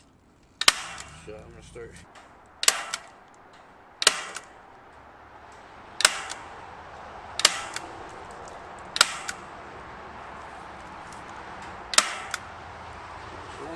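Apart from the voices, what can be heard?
staple gun stapling wire to a wooden rabbit hutch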